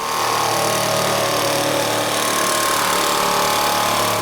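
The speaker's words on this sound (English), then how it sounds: "I'm just going to sketch out the rough outline so that I can cut it on the jigsaw." A jigsaw cuts wood for a stacked-layer car subwoofer box, a loud, steady buzzing motor drone with a rough edge, continuous from start to finish and close to the microphone.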